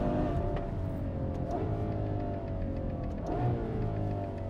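A Ferrari V12 revs hard toward the rev limiter, its engine note sustained and loud throughout, with rising and falling harmonic sweeps as the revs climb and dip twice, heard close with no talk over it.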